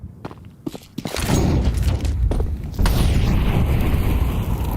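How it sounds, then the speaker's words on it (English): An incendiary grenade goes off in a Counter-Strike match at a pro tournament, a sudden booming burst that settles into a loud, sustained roaring crackle of fire, with game gunfire and footsteps around it. "Nice and deep incendiary to start."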